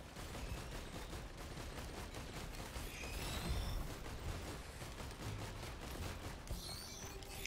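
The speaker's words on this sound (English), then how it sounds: "I'm also shooting him from where I am" Rapid bursts of video game gunfire crackle through a busy co-op shooter match, dense and continuous at moderate loudness, with a brief louder flurry near the middle and no talk over it.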